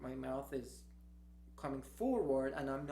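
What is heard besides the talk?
No everyday noises stand out.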